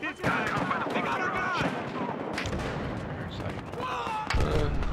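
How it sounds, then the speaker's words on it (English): Battlefield Hardline gunfight with dense bursts of shots and heavy booms all through, loud and close at times with distant cracks between them, and a voice talking over the action. "I'm getting shot from somewhere."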